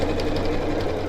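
A sewing machine stitches a fabric tote bag in a steady, close, rapid mechanical chatter that runs continuously without pause.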